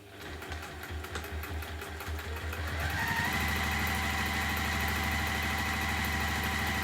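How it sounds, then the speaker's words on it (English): A sewing machine top stitching a PU bag with boning, starting with a few slow stitches and then running fast and steady with a close, even mechanical hum. "pop that under the machine, and then we are going to top stitch"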